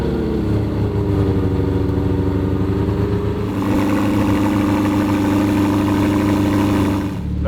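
A powerful car engine idles with a deep rumble, then revs up into a louder, sustained roar, close by, before cutting off near the end.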